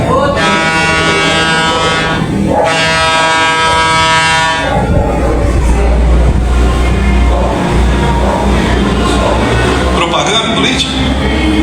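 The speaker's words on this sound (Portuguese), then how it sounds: "É um trem, né?" A train passes with a loud, steady rumble and a long horn blast near the start, and the horn returns once more. A person speaks over the noise.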